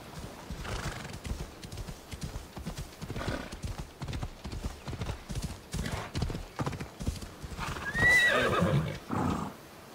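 Hooves clip-clop in a fast, steady rhythm as a horse gallops in the video game Assassin's Creed, set in ancient Greece, with a whinny rising near the end; no talking.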